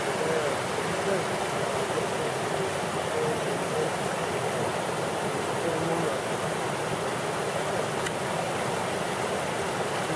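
Water of Lynch Creek near a wilderness lodge in Denali flows with a constant, even rushing hiss that holds without a break from start to finish.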